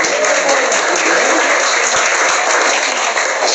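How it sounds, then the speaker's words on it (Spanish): Dense, steady audience applause filling a hall, many hands clapping at once in a continuous close wash with no speech over it. "Fuerte las palmas igualmente para ella"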